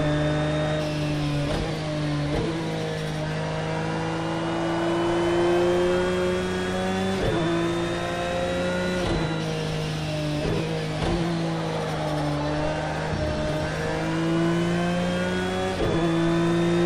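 A Porsche 911 GT3 R race car engine in the video game Project Cars 2, on original setup with a damaged engine, revving loudly and continuously, its pitch rising through gears with repeated sharp shifts, no talk.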